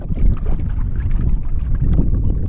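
Wind gusts buffet the microphone during a kayak paddle on Merritts Mill Pond in Florida, a steady low rumble with rushing, splashy texture throughout and no talking.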